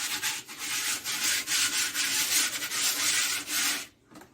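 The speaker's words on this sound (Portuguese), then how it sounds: "com uma lixinha, eu dou o acabamento" Sandpaper rubs by hand inside a cardboard mold for a cement vase, a close, steady scratchy rasping in quick back-and-forth strokes that continues for about four seconds, then stops abruptly.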